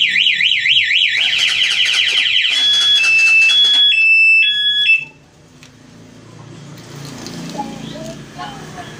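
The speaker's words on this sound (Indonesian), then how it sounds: "kalau kita kunci kemudian di starter manual, alarmnya akan bunyi dan tidak bisa di starter." An aftermarket motorcycle alarm on a 2024 Honda CRF 150L shrieks loudly, first a rapid warbling siren and then a run of stepped electronic tones, before cutting off and leaving quieter background noise.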